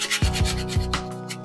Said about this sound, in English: You're kind of like sanding it evenly right here like that.